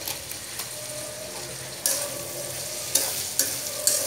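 Minced mutton with turmeric sizzles in a pan, a steady close frying hiss punctuated by several sharp spatula scrapes and knocks as it is stirred.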